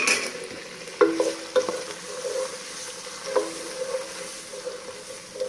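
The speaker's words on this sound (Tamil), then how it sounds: "5 பச்சை மிளகாய் 2 தக்காளி போட்டு வதக்கிடுங்க" Green chillies and tomatoes sautéing in a pan, a steady soft sizzle with a few sharper clinks and scrapes of stirring near the one- and three-second marks.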